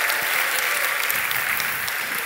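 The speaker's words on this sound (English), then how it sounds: "So can we have applause for graphs," A festival crowd gives a science talk on graphs a burst of applause, the dense clapping of a large audience loud and continuous throughout, with no speech.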